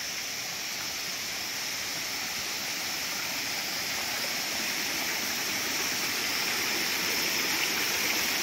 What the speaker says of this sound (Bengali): বিভিন্ন দিক দিয়ে জল নামছে।